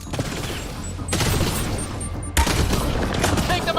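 Video game gunfire from Mass Effect crackles in repeated bursts, loud volleys of shots cutting in and out with brief pauses, a voice shouting among them.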